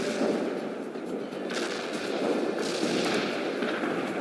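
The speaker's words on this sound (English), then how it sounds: "Artillery silence the target, sir." Artillery barrage in the real-time strategy game World in Conflict, a dense roaring rumble of continuous explosions and blasts rolling on without pause, loud and sustained throughout.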